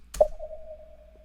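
A single synthetic bloop tone that starts with a short bright click, then holds a steady pure pitch, dry and sustained.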